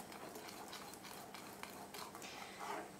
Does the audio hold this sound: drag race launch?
no